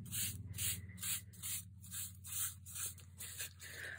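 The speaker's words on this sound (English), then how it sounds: "And I can start wiping it off." Paper towel wiping glaze off a mixed-media surface, soft rhythmic rubbing strokes about twice a second, faint and close with no talk.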